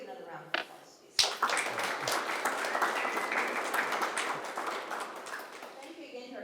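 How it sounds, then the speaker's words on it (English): Seminar audience on small business topics bursts into sustained applause after a sharp onset, a dense steady clapping that continues to the end. "Let's give another round of applause"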